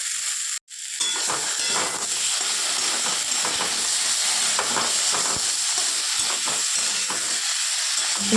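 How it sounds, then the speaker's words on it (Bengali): Potato and eggplant frying in oil with ginger-chili paste, coriander and cumin, a steady loud sizzle and hiss after a brief gap at the start, with faint stirring scrapes throughout. "এবার ভালো করে মশলা দিয়ে আলু বেগুনকে কষিয়ে নিতে হবে"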